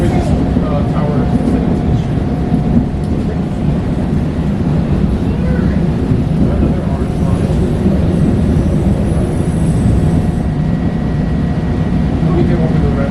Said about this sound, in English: You know you can stick your head out and touch the trains.